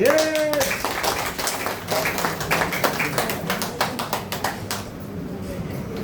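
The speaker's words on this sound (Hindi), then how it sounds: "फिर से अपने लिए ठोकिए ताली" Audience clapping at a DXN product sharing meeting in Malangawa, Nepal, a loose run of hand claps that settles into a rough rhythmic beat and then trails off, with a brief voice at the start.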